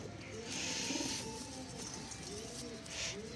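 Pigeons kept by a fancier cooing nearby, soft repeated low coos in a quiet setting, faint and close.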